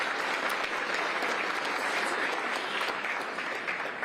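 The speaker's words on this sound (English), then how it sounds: "The water people love to applaud for stuff like that." Audience applause at the Fulton County State of the County address, dense and steady clapping from a sizable crowd, sustained without a break.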